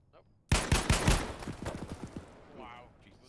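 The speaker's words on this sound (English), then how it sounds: "Bullets just fucking went around you." Burst of gunfire in the video game ArmA 3, starting suddenly with several loud, close shots and then a rapid rattle of fainter, quicker rounds that fades out, with a voice at the end.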